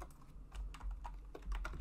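Close, quick typing on a computer keyboard while entering values into a JavaScript BMI calculator: a brisk run of crisp key clicks, alone with no talk.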